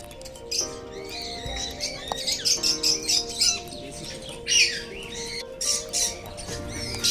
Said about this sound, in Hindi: So here we present the rose ringed parakeet. इसको देसी तोता भी कहते हैं,